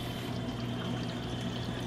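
Water pours steadily out of a mini aquarium tank, a continuous close splashing flow with no pauses and no talk.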